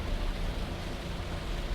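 Heavy rain drumming steadily on a car on the Pantura road between Indramayu and Cirebon, a dense, constant hiss and patter that stays loud and even throughout with no voices.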